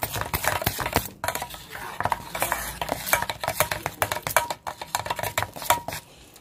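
Batter for ridge gourd bajji being mixed with water in a bowl, a close, busy run of wet slapping and scraping strokes with spoon clinks, irregular and fairly loud, no speech.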